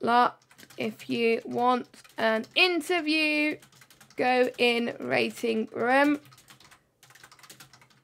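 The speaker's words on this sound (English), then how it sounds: "you could probably hear my frantic typing on in the background" Fast, frantic typing on a computer keyboard clatters in the background of an esports racing broadcast. Rapid clicks sit beneath someone talking in the foreground.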